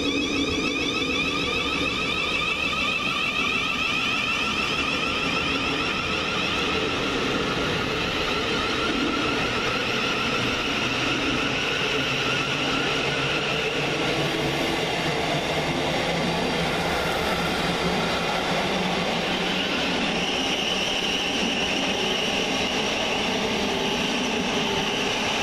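A Govia Thameslink Class 700 electric train, unit 700127, at Burgess Hill station gives a steady, continuous rumble and whine for the whole stretch, heard from the platform with no voices.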